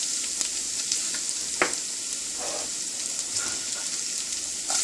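Garlic and ginger fry in about a tablespoon of hot oil in a pan, giving a continuous bright sizzle close by, broken by a few scraping clinks as the mixture is stirred, with no one talking.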